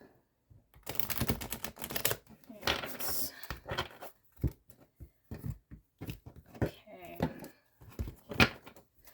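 Quick bursts of tarot cards being shuffled, crisp riffling and flicking sounds in irregular clusters with short pauses between, close by.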